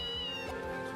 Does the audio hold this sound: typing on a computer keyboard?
no